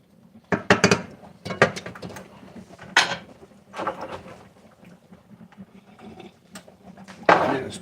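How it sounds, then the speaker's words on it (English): Lasagna noodles are stirred in a pot, giving intermittent close clacks and scrapes of a utensil against the pot in uneven bursts with quieter gaps between. "Stir noodles."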